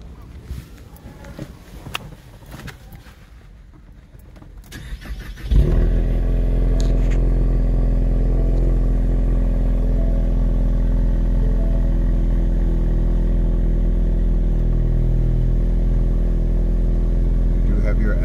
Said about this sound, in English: You do have your active exhaust.